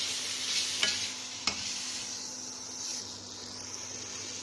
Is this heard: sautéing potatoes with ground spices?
yes